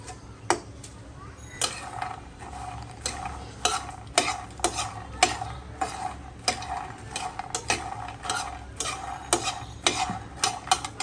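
Makhana (fox nuts) lightly frying in ghee in a pan, with a soft sizzle under a spoon repeatedly scraping and clinking against the pan in an uneven rhythm, loud and close.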